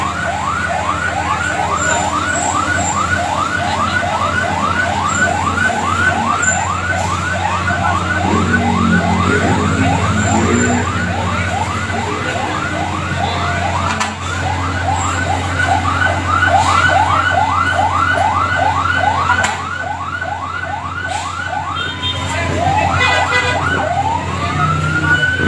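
A fire truck siren at a fire on 10th Avenue, Caloocan City, wails continuously in rapid rising-and-falling sweeps, loud over steady traffic rumble, shifting to a slower wail near the end.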